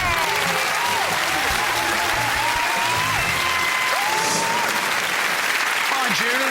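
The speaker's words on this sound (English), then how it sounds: "Applause, because you are correct" Studio audience on a UK celebrity quiz show breaks into sustained applause for a correct answer, a dense, steady wash of clapping that holds at full strength throughout, with tonal game-show sounds and voices faintly over it.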